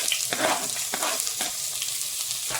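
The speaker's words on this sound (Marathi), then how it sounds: "आता याच्यात आपण बारीक चिरलेला कांदा टाकून घेऊ" Finely chopped onion and green chili fry in a pan for poha, a bright continuous sizzle with quick stirring scrapes, close and fairly loud.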